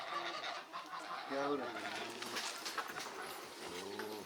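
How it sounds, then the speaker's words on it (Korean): Chickens and ducks in a garden in a rocky valley in Cappadocia, Türkiye, cluck and honk at close range, with a voice talking over the birds. "거기에 닭과 오리들까지 건강하게 살아 움직이고 있다."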